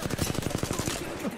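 Rapid gunfire from a shooting-range practice session in a video game, a quick burst of about eight evenly spaced shots, loud and close, tapering off at the end.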